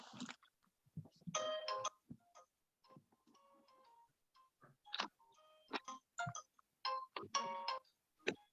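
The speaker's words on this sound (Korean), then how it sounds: "저기 전화기를 돌려볼게요" A telephone on speakerphone rings during a call placed from a church prayer meeting, giving short, uneven tonal chirps and beeps separated by brief silences, fairly faint in a quiet room.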